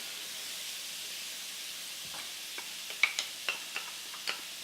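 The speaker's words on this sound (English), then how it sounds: "you want to just fry this up until they become a little bit translucent, the onions" Onion and garlic frying in a hot pan for baked samosa puffs, a soft steady sizzle with a few light stirring clicks toward the end.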